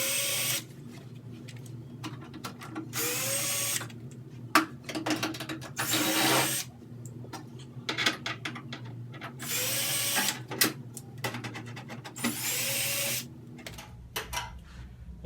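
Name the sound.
power drill removing screws from a dryer panel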